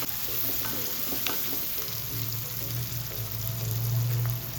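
Tomato with turmeric sautéing in a pan for an intestine curry, a constant close frying sizzle with stirring scrapes and a faint low hum underneath, no voices.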